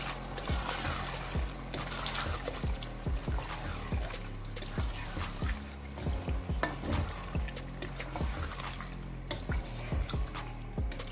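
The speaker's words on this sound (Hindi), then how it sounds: "दही ऐड करने के बाद मैं इसको अच्छे से मिक्स कर लेती हूँ।" Yogurt being stirred into cooking chicken biryani in a pot, wet squelching and scraping strokes in a steady rhythm over a low simmering bubble, close up with no voices.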